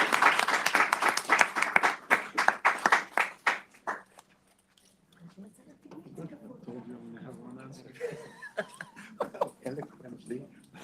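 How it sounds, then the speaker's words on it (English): A round of applause for distinguished panelists at a blockchain conference during the UN General Assembly week, heard as a burst of claps for a few seconds that stops before speech continues. "a round of applause to our distinguished"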